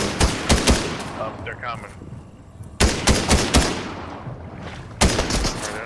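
Bursts of Fortnite gunfire, two rapid volleys of loud, sharp shots separated by a pause, with a third burst starting near the end, while a player speaks briefly between them.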